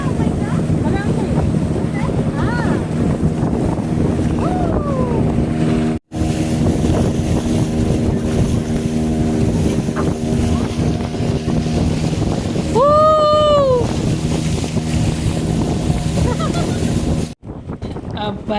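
A boat rides out on the sea at Palolem beach, its engine droning steadily under heavy wind rush, with a brief voice and a rising whistle-like call partway through.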